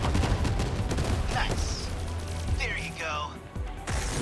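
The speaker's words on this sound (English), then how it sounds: "More missiles." Rapid volleys of missiles launching and exploding in the mecha game 13 Sentinels: Aegis Rim, a dense, loud barrage of whooshes and crashes over a steady battle soundtrack.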